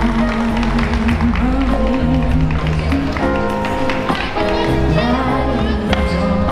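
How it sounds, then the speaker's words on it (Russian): Applause at a junior ballroom dance competition in Minsk, a dense, steady clapping from a large crowd that continues throughout, loud and close, with music and voices mixed underneath. "аплодисменты."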